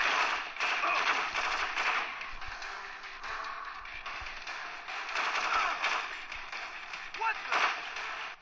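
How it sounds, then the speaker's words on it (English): Rapid gunfire from an enemy in the video game Modern Combat 4, bursts of sharp cracks and popping shots scattered through the scene at moderate loudness, with a voice talking over the shooting. "He's shooting at me"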